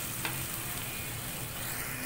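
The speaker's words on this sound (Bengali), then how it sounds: "এখন হচ্ছে ভাজাটা একদম ভালোভাবে, তেলে ভাজা হচ্ছে" Bottle gourd seeds fry in hot oil, giving a continuous close crackling sizzle with a faint scrape of stirring and no talk.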